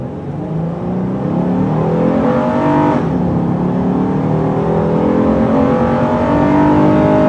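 A 2017 Honda Ridgeline pickup pulling a heavy 4,500-pound load accelerates from inside the cab, engine drone rising steadily in pitch with a brief shift midway, loud and continuous without voices.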